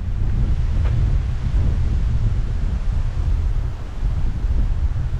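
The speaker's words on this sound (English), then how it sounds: "Oh, it's certainly windy through here." Steady wind roars and buffets close to the microphone on Manoel Island, Malta, low and rumbling, with faint gusty variation throughout.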